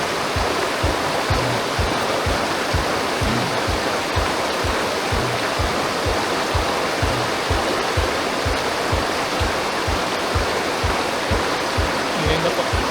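River water rushing steadily through a valley with mountains and huts, a loud continuous broadband wash with a faint regular low thumping underneath, no voices over it.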